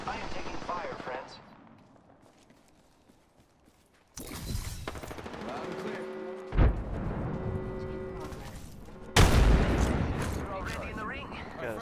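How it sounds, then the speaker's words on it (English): Bursts of gunfire and loud explosive impacts in the video game Apex Legends, with a quiet gap before dense, crackling shooting and booms resume, harsh and close. "I am taking fire, friends."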